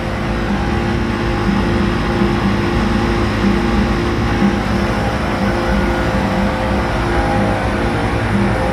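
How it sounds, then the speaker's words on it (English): Original compressors of four vintage 1990 Carrier TECH 2000 central air conditioners running together, a loud close steady hum with layered droning tones that blend into a continuous harmonizing whir, no talk. "Sounds like the original compressors. Listen to that harmonize."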